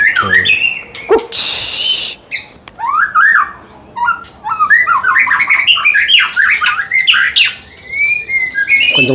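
Caged forest magpie-robin at a bird kiosk singing loudly up close, bursts of varied whistles, chirps and squawky phrases with short gaps, plus a brief rustling hiss near the start.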